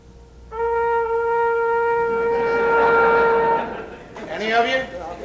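A brass instrument sounds a sustained, steady buzzing tone made by pinching and squeezing the lips without blowing, held for about three seconds, then a shorter wavering, sliding burst; close and fairly loud, with no talk.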